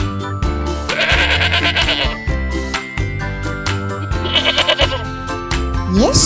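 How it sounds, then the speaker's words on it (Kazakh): A goat bleats in a few wavering cries, mixed with bell-like jingling and other farmyard animal calls, close and fairly loud throughout. "Бұл ешкінің дауысы."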